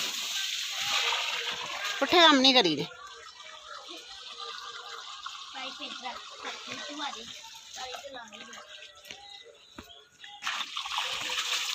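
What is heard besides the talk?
water flowing from a pipe while irrigating vegetables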